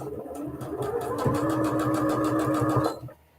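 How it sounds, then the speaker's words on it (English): A sewing machine stitches fabric for a small phone or tablet pillow, running in a fast steady rapid-fire whir for about three seconds close by, then stopping abruptly. "And then we're going to lock our stitches and then sew all the way up from our 2-inch point."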